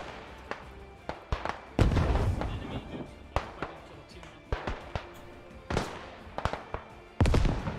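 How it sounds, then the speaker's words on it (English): Artillery barrage in the WWI shooter Beyond the Wire during the Battle of Zonnebeke, heavy shell blasts landing at irregular intervals, some near and booming, others sharper and farther off. "Putting marker down for artillery."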